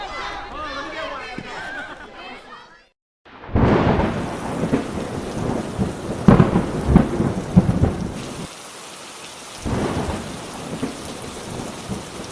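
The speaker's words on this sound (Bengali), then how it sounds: "এই যা, আবার বৃষ্টি নামলো" A cartoon sound effect of rain starting with thunder: a loud rumbling crash followed by a steady downpour of rain. Voices talk over parts of it.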